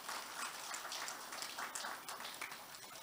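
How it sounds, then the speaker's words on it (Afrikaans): Applause from a church congregation during an Afrikaans worship service, a steady wash of many hands clapping at moderate distance for about three seconds, with no voices standing out. "Kom ons gee vir hulle lekker hande klap."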